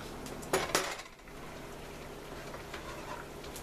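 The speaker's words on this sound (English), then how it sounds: "Go ahead and take the top off and stir them" Utensil scraping and clanking against a pot of steamed clams being stirred, with two quick metallic knocks early on, then a quieter stretch of steam and faint shuffling.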